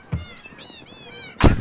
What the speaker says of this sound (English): Oh my god, look at all the cats.